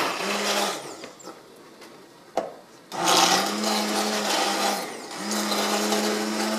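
Kitchen blender puréeing spinach for palak tofu, a steady motor whir running in several bursts with brief pauses and a short clatter between them, close and fairly loud.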